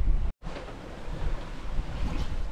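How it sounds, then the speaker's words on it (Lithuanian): Wind rises at sea aboard a sailboat, a steady broadband rush with water wash underneath. The wind noise cuts out for a moment near the start, then carries on unbroken. "vėjas biški kyla"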